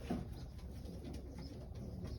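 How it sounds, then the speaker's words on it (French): Small, compact pigeons coo softly in a loft, faint and somewhat distant against a steady background hum. "Des pigeons petits, compacts, très bien faits, avec très peu de défauts physiques."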